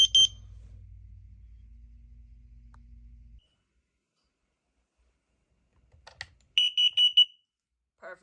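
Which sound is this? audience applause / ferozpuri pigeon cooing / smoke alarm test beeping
smoke alarm test beeping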